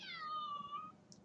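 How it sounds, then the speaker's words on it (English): A pet cat lets out one short, high meow that trails off, heard close but softly against a quiet background. "That is my cat. Oh, wow, lots of meows."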